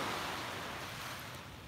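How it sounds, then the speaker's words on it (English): Ocean waves wash in a soft, steady surf, with a light rush of wind over the microphone. The sound is faint and distant with no voices. "soak in the sounds of those waves"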